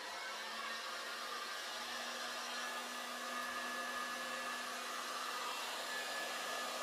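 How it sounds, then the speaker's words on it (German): A heat gun used as a hair-dryer-style blower runs steadily while warming up over resin poured on an Ikea cutting board, giving a continuous faint airy whoosh with no voices. "Föhn einmal anmachen und dann darf der auch kurz einmal warm laufen."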